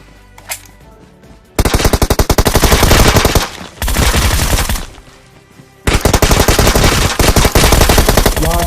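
Groza assault rifle fire in the PUBG game comes in loud, rapid full-auto bursts, three long volleys separated by short pauses, close and dominant with no talk over them.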